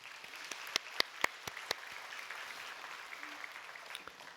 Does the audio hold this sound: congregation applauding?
yes